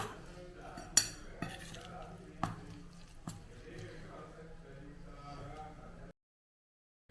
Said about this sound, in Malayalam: ഇതെല്ലാം കൂടെ ഒന്ന് മിക്സ് ചെയ്തെടുക്കാം.